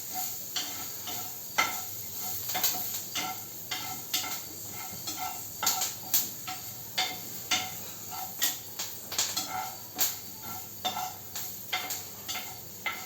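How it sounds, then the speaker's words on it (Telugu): Tempering spices crackle and sizzle in hot oil for godhuma ravva idly, with a steady stream of sharp pops and spits repeating every second or so, close and fairly quiet. "చూసారా పోపు అంతా కూడా చక్కగా వేగిపోయింది"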